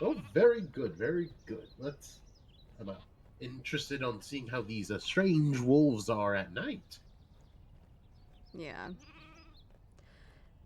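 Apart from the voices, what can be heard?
sheep bleating outside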